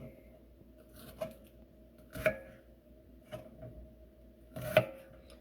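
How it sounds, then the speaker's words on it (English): A knife chops onions on a board in a quiet kitchen, with four sparse, separate chops spaced a second or so apart and no voices. "You just take a knife and chop the onions carefully like this"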